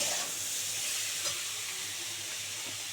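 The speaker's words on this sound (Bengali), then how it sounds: "দু মিনিট ধরে ভালো করে ভেজে নিয়েছি শিম বেগুন পেঁয়াজ কলি" Beans, brinjal and onion stalks frying in a pan, an even close sizzling hiss with a faint low hum underneath and a small clink partway through, no talking.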